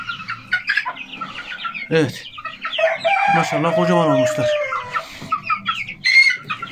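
Rhode Island Red and Australorp chickens clucking and a rooster crowing nearby, loud and close, with people talking over the birds.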